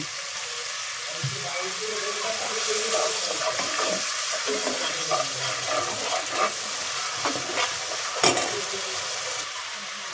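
Water poured into a hot pan hisses and crackles, a steady sizzle with some bubbling and a sharp clink near the end.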